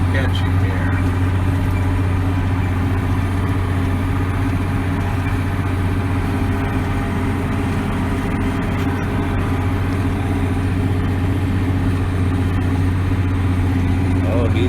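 A tractor engine runs steadily while breaking ground in an alfalfa field, a constant loud low drone with harmonic hum throughout, holding an even rhythm with no pauses.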